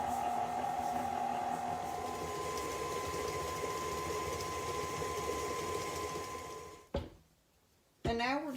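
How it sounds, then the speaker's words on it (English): An electric mixer creams Crisco with sugar for a fall baking recipe, holding a steady motor whir for about seven seconds before it stops, followed by quiet and a brief sound at the end. "We're just going to blend the Crisco in with the sugar."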